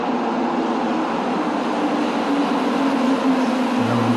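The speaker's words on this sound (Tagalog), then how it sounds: "Yung train na to, nung papuntang Montmorency, hindi yung papunta sa downtown." A Montreal metro train bound for Montmorency rumbles steadily from inside the car, a continuous rolling roar with a rising electric motor whine toward the end, no voices.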